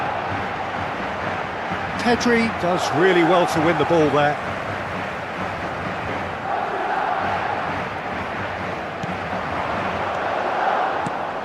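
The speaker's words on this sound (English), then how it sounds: "the crowd level has gone up a notch or 10" Stadium crowd in the eFootball 2026 video game, a steady roaring wash throughout, under a match commentator talking, with a short whistle-like burst in the middle.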